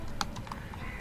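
Code is typed on a computer keyboard in a few quick, light clicks, one key struck a little harder than the rest, heard close and quiet in a short burst.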